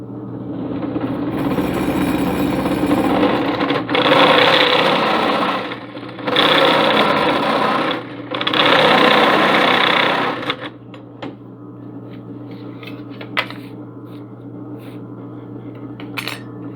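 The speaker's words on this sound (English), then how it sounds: "I'm actually going to stop 1 step shy of that, and then I'll turn the workpiece over and drill that last step." Step drill bit cutting through a steel ammo can: several loud, steady whirring bursts from a drill, separated by brief pauses, then quieter clicks and handling sounds.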